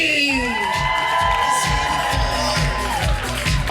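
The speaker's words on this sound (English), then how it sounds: "give a big round of applause for Hannah Levine" Audience at a live cooking and composing competition cheering, whooping and applauding for a judge, with a dense, loud crowd roar and shouts held throughout, a few high whoops rising above it.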